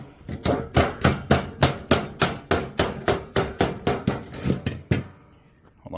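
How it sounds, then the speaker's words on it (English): Sheet metal being hand-formed into an HVAC Pittsburgh seam rattles and bangs in a steady run of about twenty sharp, evenly spaced metallic hits, loud and close, with no talk, fading out at the end. "Sorry about the rattling."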